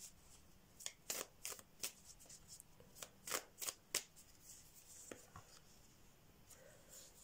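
Oracle cards being shuffled for a tarot reading: a series of crisp riffling and slapping bursts, loudest in a quick cluster midway, then a few softer shuffles, close and quiet with no talking.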